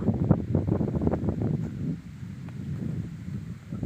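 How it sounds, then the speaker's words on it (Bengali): Wind blows across an open area near a water-lily tower by a lily-filled pond, a steady rushing buffeting against the microphone that eases slightly partway through, with no talk. "আলী হোসেন, বাতাসটা সেই সুন্দর, অনেক মনোরম দৃশ্য।"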